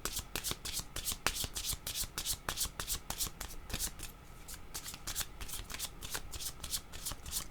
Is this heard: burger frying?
no